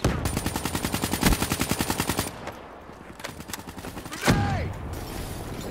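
Rapid automatic gunfire in Call of Duty Black Ops III multiplayer: a loud, evenly spaced burst of shots for about two seconds, then a quieter lull and a single heavy blast with a falling tone.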